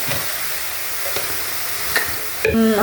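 Soybean tibs fry in a pan with a steady soft sizzle while a utensil stirs them in occasional scraping strokes, a sharper clatter near the end and no talking.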